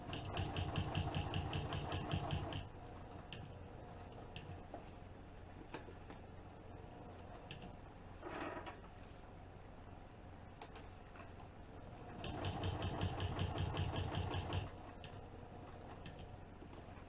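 A sewing machine stitches a band onto the top of a bag in two loud, steady bursts of running motor and needle, one at the start and one near the end, with a quieter mechanical hum between them.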